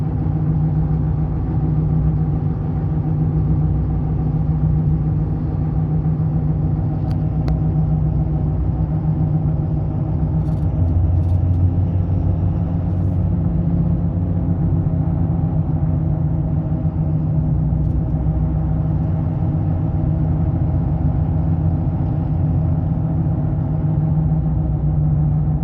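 Steady, loud cabin drone from a 2011 Ford F250 pickup on the road, its tire roar and engine rumble blending into a constant low hum for the whole stretch with no talking.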